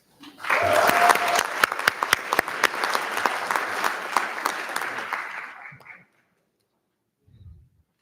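A school board meeting audience applauds a student of the month, with brisk crowd clapping for about six seconds, sharp individual claps standing out, then it stops abruptly, followed by a brief faint thump.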